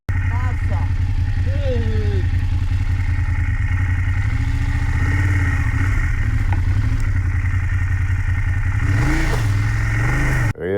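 A motorcycle stuck in half a metre of deep mud on an off-road track idles and revs in short bursts, loud and close, with clattering. A voice talks over the engine.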